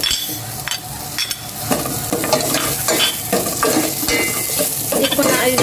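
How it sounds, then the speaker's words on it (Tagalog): Garlic, onion and ginger sautéing in a pan for mussels, a loud close sizzle with busy stirring and the scrape and clink of a utensil against the pan, with no speech. "Nagisa na yung mga bawang, sibuyas, luya."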